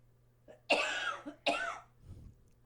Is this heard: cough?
yes